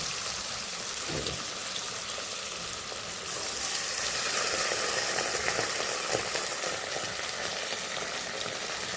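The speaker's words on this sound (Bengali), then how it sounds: "টমেটা আর পেঁয়াজটা একটু ভাজা হয়ে গেছে" Tomato and onion frying in a pan with spice mix added, a loud continuous sizzle with crackling that swells partway through as the mix goes in, close up with no voices.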